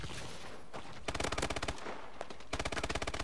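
An MP11 submachine gun fires in Call of Duty: Advanced Warfare, two rapid sustained automatic bursts with a fast rattling rhythm, punchy and close over constant game background noise.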